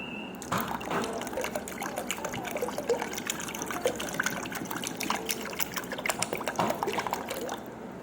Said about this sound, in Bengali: এবার চলো ঠান্ডার জল দিয়ে দেবো